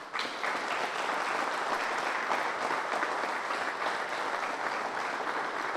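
Sustained applause from an indoor audience welcoming the Governor of Illinois at a farm-family event, dense steady clapping throughout, fairly distant and even in level.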